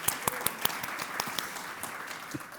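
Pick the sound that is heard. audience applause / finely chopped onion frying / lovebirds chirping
audience applause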